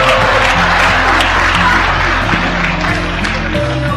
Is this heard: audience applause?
yes